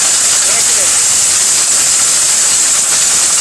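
An LG blender runs at 27,000 RPM, giving a loud, unbroken roaring whir with a hissy edge that holds steady from start to finish.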